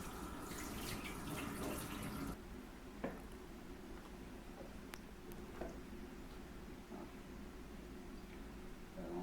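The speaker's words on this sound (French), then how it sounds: "Je rince encore bien mes mains." A kitchen tap runs briefly for rinsing hands while cooking a Cameroonian nkui sauce, a short rush of water that stops after about two seconds, leaving faint clinks.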